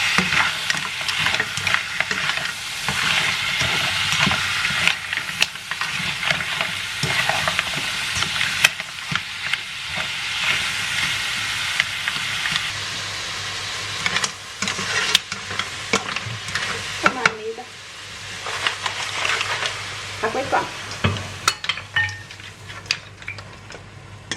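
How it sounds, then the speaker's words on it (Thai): Seafood spaghetti ingredients, onions included, stir-fried with a pinch of salt in a pan: a constant loud sizzle with scraping and clinks of the utensil against the pan throughout, close up. "เราเกลือนิดหน่อยค่ะ ผัดไปก่อน"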